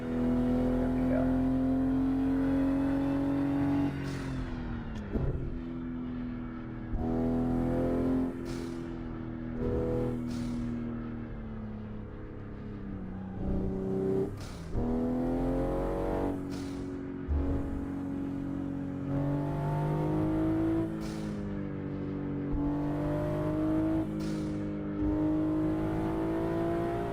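A car engine in a racing simulator game drones steadily with shifting pitch, rising and falling through repeated gear changes and revs over nearly half a minute of continuous sound, with no talking.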